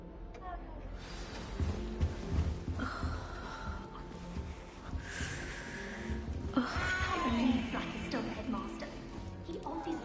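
A cat meows in the castle grounds of Hogwarts Legacy, a few short plaintive cries rising over the game's ambient background and low rumbling noise.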